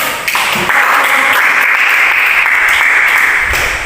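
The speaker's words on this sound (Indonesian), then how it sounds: "Kita berikan aplaus." A classroom of students gives a short round of applause for a group's answer, dense clapping that swells quickly and holds steady for a few seconds, close and loud.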